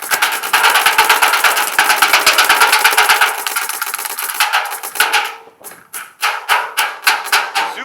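Airsoft gun fitted with a DLX Mech turbo valve in a mech frame, firing close by: a rapid, steady string of snappy clicks for several seconds, then a few separate short bursts of shots.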